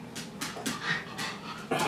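A dog pants in quick, rhythmic breaths mixed with soft whimpers as it begs near a dry-aged steak, close by and fairly quiet, with no talking.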